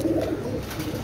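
Oman teddy pigeons coo in low, throaty, rolling calls that carry on steadily and fairly close, with no voices over them.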